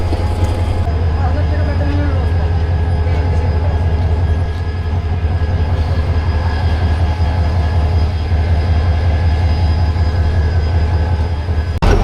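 A train stands at Kaunia railway station in Rangpur, giving a steady low rumble and hum that runs throughout with faint squeals and platform noise, close and continuous.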